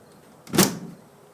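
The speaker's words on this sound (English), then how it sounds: "when I open this drawer, okay, this is one drawer" Wooden drawer on a piece of furniture pulled open in one quick sliding scrape, a short close burst in a quiet room.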